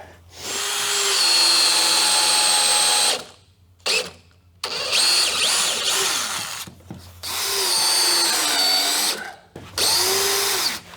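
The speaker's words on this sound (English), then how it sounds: "I got all the holes drilled for the fastenings." A power drill whirs loudly in several long bursts with short pauses between, close up, its pitch shifting as it bites and eases off, drilling fastening holes in a boat's transom.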